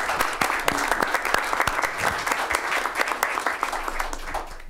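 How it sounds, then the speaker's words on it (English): Dense, steady clapping from the audience at a city council meeting, with sharp individual claps standing out from the wash and carrying evenly to the end. "A round of applause"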